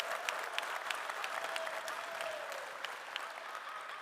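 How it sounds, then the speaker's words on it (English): Conference audience in the main hall of a blockchain event applauds a sponsor, a steady mid-level round of clapping with a few sharper individual claps standing out, lasting several seconds. "Please give them a round of applause."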